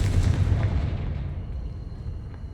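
A fire-blast spell in a witch-themed video game sets off a deep booming explosion, loud and close, whose rumble fades over a couple of seconds.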